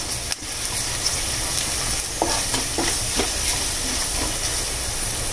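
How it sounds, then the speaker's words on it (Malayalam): Onions and turmeric powder sautéing in a pan for a Kerala mixed vegetable stir fry of carrot, beans and potato, a steady close sizzle with a few soft scraping stirs midway, no talking. "അതിലേക്ക് ഒരു 1 ടീസ്പൂൺ മഞ്ഞൾപ്പൊടി മഞ്ഞൾപ്പൊടി ഇട്ട് പച്ചമണം മാറുന്ന വരെ നന്നായിട്ട് ഒന്ന് വഴറ്റണം"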